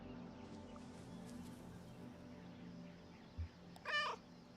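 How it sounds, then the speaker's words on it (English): A cat in the video game Kentucky Route Zero gives a single short, curious meow near the end, over a quiet, humming ambient background with a faint low thump just before. "Curious meow."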